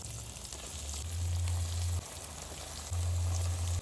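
Banana flower and prawn chops frying one by one in hot oil, a steady close sizzle and crackle that swells with low bubbling bursts as pieces drop in, with no talking.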